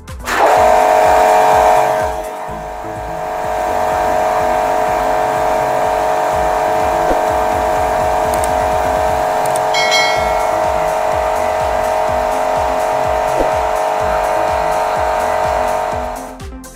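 An Orion Superjet 100-SX pressure washer runs with a loud, steady motor whine and hum, briefly dipping before settling into a constant drone that holds until the end.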